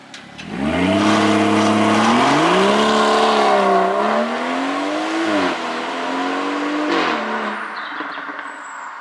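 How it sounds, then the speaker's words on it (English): A BMW 440i fitted with an MPPSK Power and Sound Kit revs loudly and close, its engine note climbing and dipping through several pulls before easing off. "here we go behind the wheel of this 440i with the MPPSK Power and Sound Kit"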